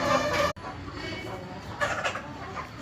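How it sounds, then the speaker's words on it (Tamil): Aseel hen clucking in short bursts, close and fairly loud, with farmyard background noise and someone talking over it. "இது வெத்துக்கால் பெட்டை தான்."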